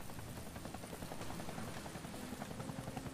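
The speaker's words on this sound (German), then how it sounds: "Ich höre einen Heli." A helicopter in the zombie video game Deadlight, a quiet distant rotor drone with a fast, even chopping pulse that continues unbroken.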